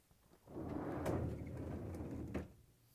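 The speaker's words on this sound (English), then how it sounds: "To get to the part, we need to open the freezer door." An LG/Kenmore refrigerator's freezer door swings open with a soft suction release and a low rushing sweep lasting about two seconds, ending in a faint click, close by and quiet.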